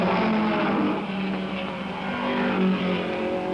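Racing cars roar around the Mallory Park circuit during a club race, a loud continuous engine drone with rising and falling pitch as the cars pass close by.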